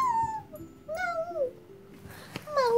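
A cat meows several times indoors, drawn-out rising and falling cries close by, with short pauses between them and a faint background hum.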